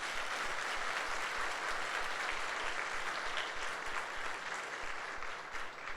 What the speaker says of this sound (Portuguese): Vamos dar um aplauso a Jesus por isso?